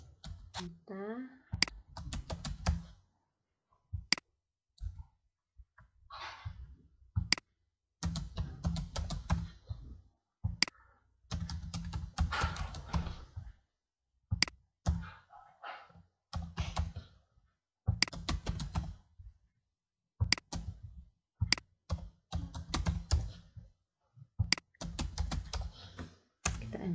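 Keys typed on a computer keyboard in short irregular bursts of close, crisp clicks separated by pauses, with a voice talking intermittently between and over the typing.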